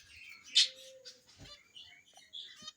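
Budgerigar chirping in short, faint, high tweets scattered across a few seconds, with a brief rustle in between and no talking.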